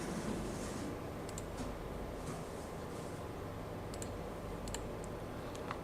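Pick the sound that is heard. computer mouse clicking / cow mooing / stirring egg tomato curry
computer mouse clicking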